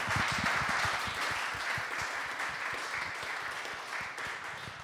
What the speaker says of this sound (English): Go give the guys a round of applause